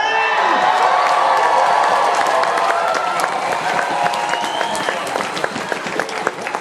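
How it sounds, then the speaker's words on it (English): A festival crowd at the National Folk Festival 2016 cheers and applauds loudly and continuously, dense clapping and shouting filling the whole stretch with no break. "There was a lot of cheering there."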